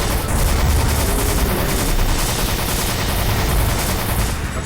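Grenades burst amid a dense, continuous barrage of gunfire and heavy low rumbling in the video game Extermination, loud and sustained throughout without clear separate blasts.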